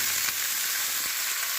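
Mixed vegetables (cauliflower, peas, carrots, beans) dropped into hot oil with fried ginger for vegetarian semolina upma, giving a steady, bright, close sizzle that runs without a break and with no talk.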